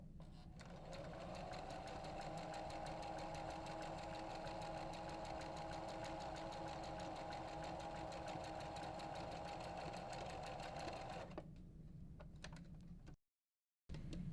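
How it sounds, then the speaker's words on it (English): A sewing machine stitching two fabric scrap pieces together, a steady rapid close mechanical chatter running continuously for about thirteen seconds before stopping abruptly, no talking. "Make sure that you don't catch any of those loose strips while you're starting to stitch the 2 pieces together."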